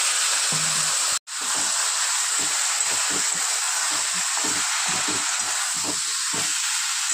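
Loud, steady sizzling hiss as a little water hits chili, cumin and coriander powder in a hot pan for a cauliflower and prawn curry. It cuts out for an instant, then carries on unbroken with faint low clatter beneath.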